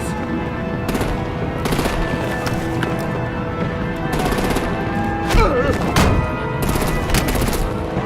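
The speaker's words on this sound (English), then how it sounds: "Break out the artillery and disable their vehicles!" Rapid bursts of video game gunfire from Batman: The Enemy Within, loud and sustained across the whole stretch, with a heavier blast partway through and layered battle noise beneath.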